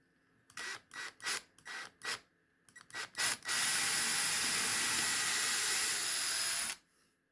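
A small drill bores holes through metal dog tags in a workshop: several short whirring bursts start and stop in quick succession, then one sustained steady run for a few seconds before cutting off.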